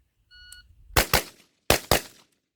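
Four sharp DT15 AR-15 rifle shots fired in two close pairs, loud and near, following a brief electronic beep, on an outdoor shooting range.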